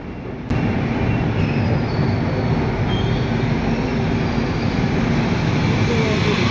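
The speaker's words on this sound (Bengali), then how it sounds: "পুরো বারোটার সময় আমাদের ট্রেন জয়পুর স্টেশন থেকে ছেড়ে দিয়েছে" Interior rumble of the Ajmer SF Express (12987) in motion, heard from inside a 3rd AC coach: a steady, loud low-frequency drone with continuous wheel-and-track noise throughout, starting abruptly and holding even.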